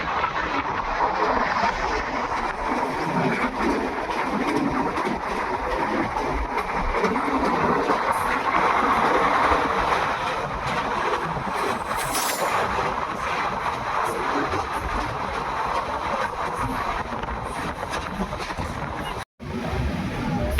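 Dayodaya Express train rolling over the Banas river bridge in Rajasthan, a steady close rumble and clatter of wheels and carriages holding evenly throughout with a brief dip near the end.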